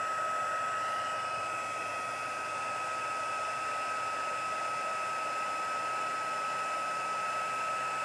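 A heat gun runs steadily for about eight seconds during heat embossing in a watercolour papercraft project, giving a continuous, loud blowing whir with a fixed high whine and no pauses.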